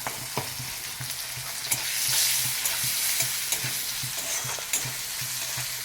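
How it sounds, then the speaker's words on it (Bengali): Oil sizzling in a pan with salt, turmeric and grated garlic, a continuous bright hiss broken by regular scraping taps of a spatula stirring close by. "খুব ভালো করে ভেজে নিয়ে এরপরে দিয়ে দিলাম গ্রেট করা রসুনটা"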